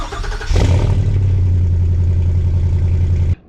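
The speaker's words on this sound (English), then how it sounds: "I like the sound of a gas engine." A Ford Super Duty 7.3 Godzilla gas V8 truck engine fires up and revs, then settles into a steady, loud, deep rumble that cuts off abruptly near the end.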